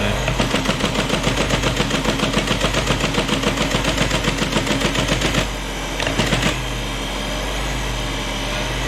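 An old teleprinter with a hunting motor, a rapid mechanical clatter pulsing in regular surges for several seconds, then dropping to a quieter steady hum with a couple of brief bursts.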